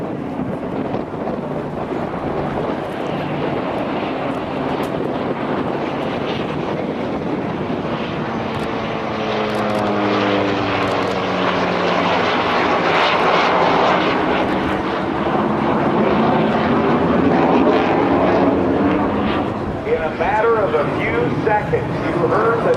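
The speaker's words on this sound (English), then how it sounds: "this great combination of the radial piston engine, air-cooled, and the two GE F404 turbofan engines on the Hornet" Warbird with an air-cooled radial piston engine flying past alongside an F/A-18 Hornet with two GE F404 turbofans at an airshow, a loud sustained roar with sweeping, shifting tones as they pass, wind buffeting the microphone and voices talking over it.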